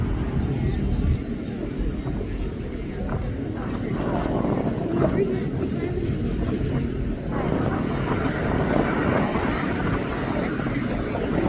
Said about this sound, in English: The propellers have fully transitioned to the vertical position